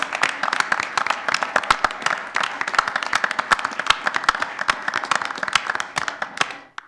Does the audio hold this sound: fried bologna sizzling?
no